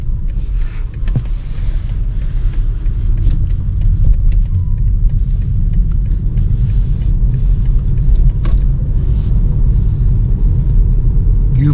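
A BMW 118i travels over a rough road surface, and the cabin holds a steady, low rumble of tyre and engine noise. The level stays constant throughout, with a few faint knocks from the road.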